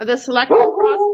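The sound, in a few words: dogs barking in the house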